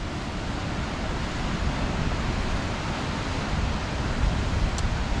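Surf washes against the rocky cliffs of Pantai Butak, a beach without sand, in a soft, continuous broadband roar. The distant waves blend with wind, fairly faint and even, with no voices.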